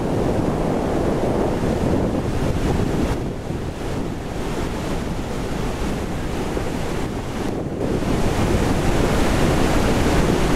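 Steady roaring rush of waterfalls in Misiones, loud and continuous throughout with no voices, the broad wash dipping briefly twice before swelling back.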